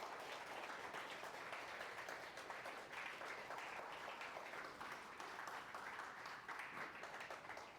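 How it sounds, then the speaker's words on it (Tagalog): A congregation at a Mother's Day church service applauds the mothers, with steady, dense clapping from many hands filling the room throughout. "Bigyan natin ng palakpak ng ating mga ina."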